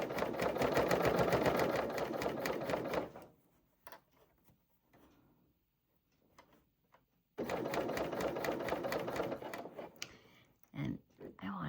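A serger runs fast and steady, stitching a blue ribbed cuff onto a white sleeve, then pauses with faint handling sounds before a second long burst of stitching and a brief stop near the end.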